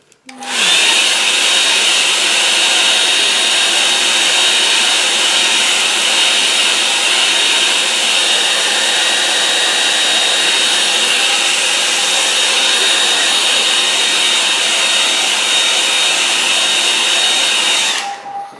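A hair dryer blows steadily to dry a buckled watercolour painting, a loud, continuous whirring roar that starts abruptly and runs unbroken for about seventeen seconds before cutting off, with no voices over it.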